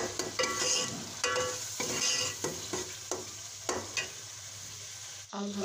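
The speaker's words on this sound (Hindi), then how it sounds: "ज़्यादा नहीं मिक्स करना, बस थोड़ा सा मिक्स कर देंगे, और इसे हम थोड़ी मिनट तक पकाने के लिए छोड़ देंगे।" Magaz (brain) is stirred gently into masala in a pan, a few soft scraping strokes over a quiet, continuous sizzle, close by with no talking.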